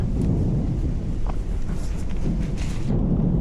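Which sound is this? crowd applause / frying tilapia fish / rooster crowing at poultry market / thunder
thunder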